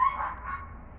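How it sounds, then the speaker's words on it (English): Neighbourhood dogs bark and yip once or twice in the distance, faint against a quiet indoor room. "my neighbors has a bunch of dogs"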